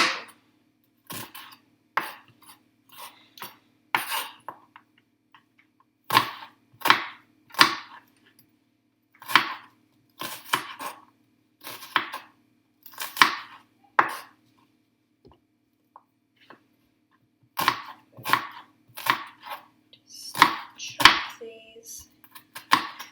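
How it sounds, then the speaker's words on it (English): Sharp knife chops striking a cutting board in irregular bursts, close and crisp, with short pauses between runs of quick cuts. "The reason I'm chopping them quite small is because you don't want big chunks in with the dinner"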